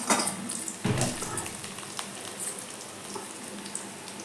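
Ginger fries in hot oil for mint pickle, a close crackling sizzle with a burst of spatter near the start that settles into a softer, steady hiss.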